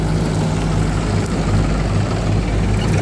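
A tractor engine running steadily, a loud continuous low rumble with even idling throb throughout, no voices.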